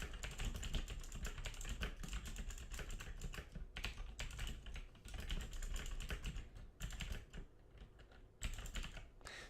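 Rapid typing on a computer keyboard while entering text in the Vim editor on Linux: dense, steady key clicks with short pauses, fairly close, no talking.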